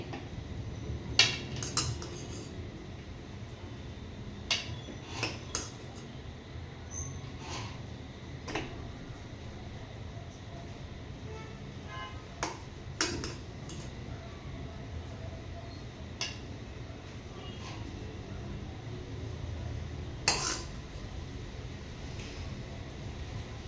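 Prawn rice being served onto a plate with metal utensils, sparse clinks and scrapes of a spoon against the plate that recur irregularly over a quiet background hum.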